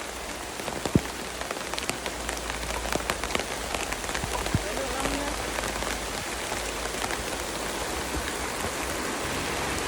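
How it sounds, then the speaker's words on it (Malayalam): Light rain falls steadily outdoors during a family's day at home, a constant close patter of drops on surfaces with occasional louder individual drips. "എന്നാലും ചെറിയൊരു മഴ പെയ്തു."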